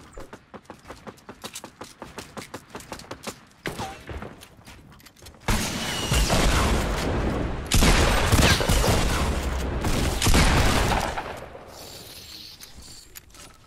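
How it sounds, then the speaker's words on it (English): Explosive rocket launcher fire and blasts in a fast-paced shooter video game, a rapid burst of shots giving way to sustained loud roaring explosions, with no talk over it. "I didn't know he has a rocket launcher"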